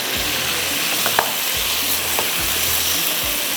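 Bone-in meat fries in oil in a pot while a spoon stirs it for tarka chawal. A loud, steady sizzle runs throughout, with low scraping strokes repeating close by every second or so.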